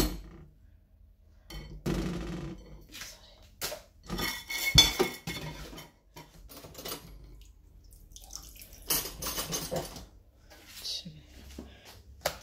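Dinner plates and a cooking pot are washed at a home kitchen sink, with irregular clinks and clatters of dishes, scraping, and running water across the stretch, close and moderately loud.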